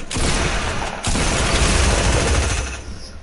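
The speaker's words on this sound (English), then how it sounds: "That P90. That was an SMG." Rapid P90 submachine gun fire in a building-heavy shooter match, a loud sustained burst broken by a brief gap near the one-second mark, then continuing dense and close before tailing off at the end.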